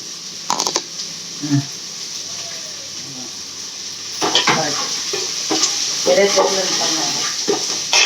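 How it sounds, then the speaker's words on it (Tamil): Onions sauté in a pan for prawn curry, a steady sizzle with scraping stirs and clatter of a spoon, close and fairly loud, with brief voices in the background. "வெங்காயம் நல்லா வதங்கிட்டோம்ப்பா"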